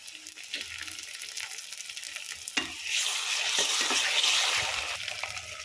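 Ginger garlic paste sizzles in a hot pan for a quick rice pulao, with scraping stirs and clinks of a spoon, the frying hiss swelling louder partway through.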